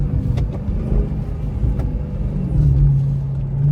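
A Dodge Hellcat driving in snow and downshifting, heard as a steady, close engine rumble with road noise that swells into a louder, rising engine tone in the last second.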